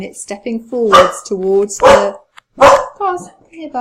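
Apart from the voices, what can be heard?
dog barking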